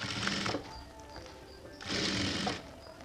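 A sewing machine stitches a natural jute hand purse in two fast, steady bursts separated by a short pause, loud and close with no talking.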